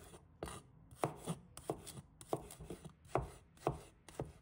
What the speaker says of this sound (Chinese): 几个大蒜，把它切成片。